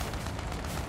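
Gunfire aimed at aircraft in the World of Warplanes flight game, a dense rumbling barrage that runs steadily through the whole moment with no pauses.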